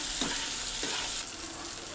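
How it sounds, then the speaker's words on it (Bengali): Tomato masala being stirred and fried in a pan, giving a close, soft sizzle broken by a couple of brief scraping strokes from the spoon, with no voices. "ভালো করে একটু নাড়াচাড়া করবো। একটু ভাজা ভাজা আর একটু হবে, আর টমেটোটা একটু গলবে।"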